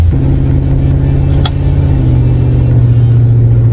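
A Lincoln Town Car drag car's engine holds a loud, close, sustained high rev with a steady droning rumble. A brief sharp crack comes partway through, then the engine settles into a lower held note.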